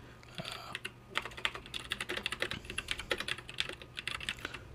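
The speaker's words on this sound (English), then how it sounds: "you just click here, File, New, and then you can start typing." Fingers type on a computer keyboard while entering text in Notepad++, producing rapid, irregular close key clicks in quick bursts with short pauses, with no one speaking.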